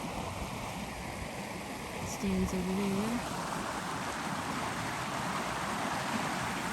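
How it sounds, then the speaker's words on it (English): Steady rushing water of a flowing creek fills the scene, with a person talking briefly partway through. "I'm sure you can't probably hear me because of the creek."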